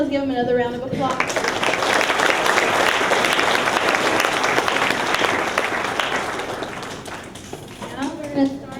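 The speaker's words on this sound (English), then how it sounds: "Let's give him another round of applause." Sustained crowd applause fills a graduation ceremony for an 8th grade class, steady and dense for several seconds before tapering, with a voice speaking briefly at the start and end.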